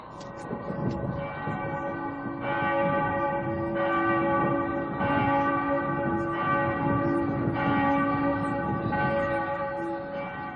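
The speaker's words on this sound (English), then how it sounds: "Ring the alarm bell." An alarm bell in a Macbeth audio drama rings repeatedly and steadily over a rumbling battle-like backdrop, loud and continuous with no voices.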